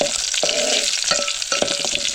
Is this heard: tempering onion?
yes